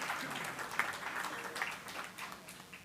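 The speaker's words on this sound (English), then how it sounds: "Give her a warm round of applause." An audience at an office opening and political launch event applauds with steady, moderate clapping that sounds a little distant and faint and lasts throughout, with no speech over it.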